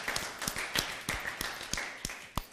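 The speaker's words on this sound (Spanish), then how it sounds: "Con aplauso, por favor," An audience claps for the Osos de Celaya, giving sparse, distinct hand claps with uneven rhythm that ring out sharply over a quiet room.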